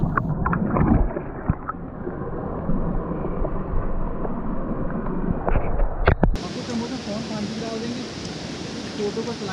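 Water at Mahasar Taal lake in Tehri Garhwal rushes and splashes in a steady broadband wash, loud and close, shifting abruptly to a brighter, hissier flow partway through with no one speaking.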